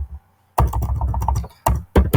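Typing on a computer keyboard produces close, crisp bursts of rapid key clicks separated by short pauses, with no voice over them.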